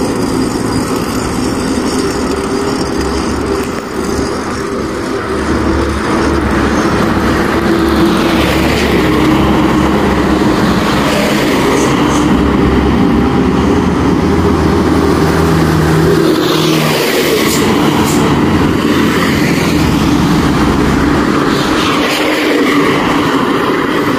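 A long-distance bus on a Jakarta–Padang route pulls away on a Sumatran highway, its engine droning loudly and steadily as it gathers speed, with passing traffic rumbling around it.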